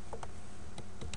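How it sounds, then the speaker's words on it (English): Someone types on a computer keyboard, giving a handful of soft, separate key clicks at an uneven pace over a faint steady background hum. "I'm going to go ahead and type in"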